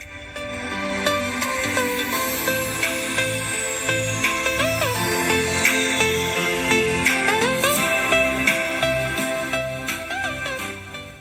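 Royalty-free music streams over Bluetooth through a triaxial speaker in a home sound box with rewired speaker impedance. It plays continuously and fairly loud, with a steady beat, sustained tones and sweeping synth lines, and no one speaks over it.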